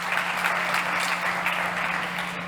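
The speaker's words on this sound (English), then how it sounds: "A big round of applause for Álvaro Pérez Redondo from Harvest Market." An audience applauds a startup pitch at a consumer-trends competition, with steady, dense clapping sustained throughout and no voices over it.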